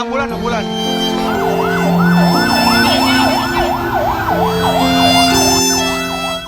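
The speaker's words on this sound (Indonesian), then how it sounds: "Ambulan." A loud wailing ambulance siren cycles rapidly up and down over steady horn tones and engine rumble as the ambulance passes nearby.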